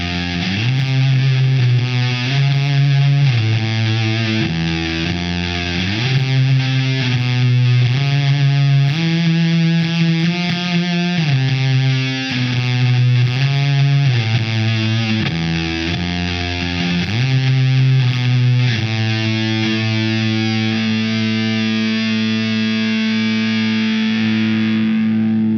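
A heavily distorted Fender Ed O'Brien EOB Stratocaster plays a chugging riff of changing chords, loud and thick, ending on a long sustained chord that rings out.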